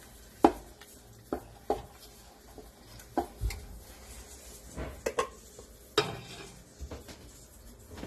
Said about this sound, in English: I'll use my spoon to bring out some of the leftover things here in the pot.